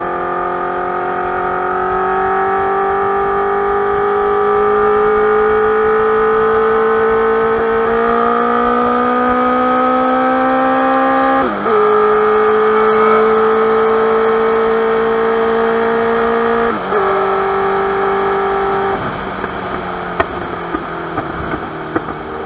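A modified Honda Sonic motorcycle fitted with a 1137cc engine drones loud and close, its pitch stepping up through gear changes in a long steady run before easing off near the end.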